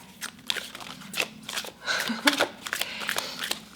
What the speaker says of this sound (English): I like shuffling on camera so you guys can see like these things come out.